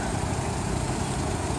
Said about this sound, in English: It is a bus.